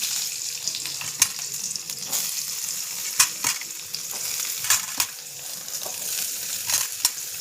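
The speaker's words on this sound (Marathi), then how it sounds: "मी कांदा टाकलेला आहे." Onion sizzling and frying in a hot pan with cumin seeds, a steady broadband crackle with occasional sharper pops and stirring clinks, close and fairly loud with no voices.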